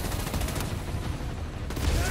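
Enemy gunfire in Spider-Man: Miles Morales, a steady rattling barrage of shots at moderate volume that continues throughout with little pause.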